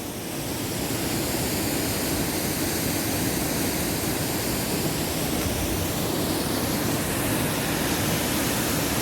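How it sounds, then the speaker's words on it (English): Steady roar of a waterfall tumbling toward the sea along the North Devon coast path, thick unbroken rushing water that swells slightly at the start and then holds constant, with no talking. "amazing waterfall"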